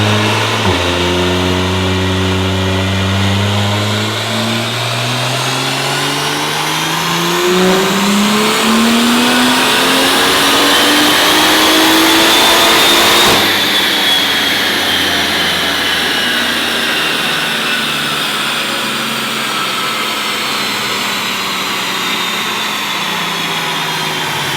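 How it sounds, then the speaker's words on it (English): A single-turbo BMW F82 Heritage Edition M4 pulls hard on a dyno running snow tires, engine climbing steadily in pitch through the gears. A loud tire roar sits underneath, followed by a sudden cut and lingering high rumble as it winds down. "The snow tires on the dyno are very, very loud"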